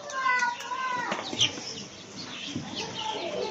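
A chicken's wings flap in a quick flurry, with clucking and squawking mixed into lively background noise and nearby chatter at an indoor zoo in Yakutsk.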